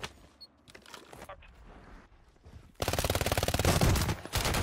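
Rapid gunfire bursts in the Warzone video game erupt loudly after quieter scattered shots, a dense crackling volley dominating the second half.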